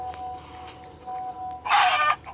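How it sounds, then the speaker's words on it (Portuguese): A few short clucks from a chicken in Minecraft, then a louder squawk near the end, over a quiet background hum. "Uma galinha."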